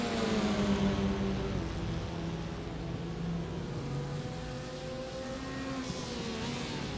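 TCR touring cars racing in a sim racing esports event at Barcelona, engines droning with rising and falling revs as they battle closely, a continuous loud mechanical whine with no talk.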